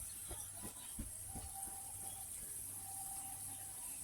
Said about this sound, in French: Après, ça commence à se faire frire doucement,